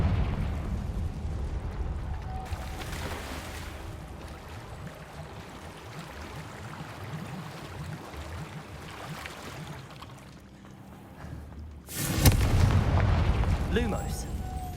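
Confringo blasting spell explosion in the video game Hogwarts Legacy, a loud booming burst erupting near the end over a rumbling game soundscape, with a voice speaking earlier.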